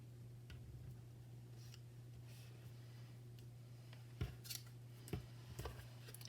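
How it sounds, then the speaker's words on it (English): Scissors trim paper pieces off the edge of cardstock for a handmade garden card, giving a few quiet, crisp snips late in an otherwise hushed, faint stretch. "you're going to be trimming off the pieces that go off the edge of the cardstock"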